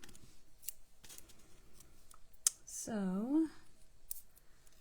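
Scissors make several quick, crisp snips while trimming a handmade Christmas card, quiet and close, with someone speaking briefly over them.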